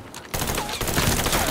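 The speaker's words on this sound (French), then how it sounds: "Je l'ai, je tire." Gunfire in the video game Mafia III, a dense burst of rapid shots in close succession that starts abruptly and keeps up loud and steady.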